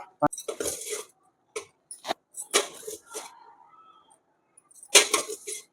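Dry ground dosa premix powder is poured into a bottle and the lid is closed, heard as scattered clinks, scrapes and rustling taps, loud and close, separated by short pauses.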